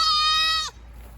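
A goat gives a single loud, close bleat lasting about half a second, bright and strongly harmonic, then cuts off abruptly into quiet background hum.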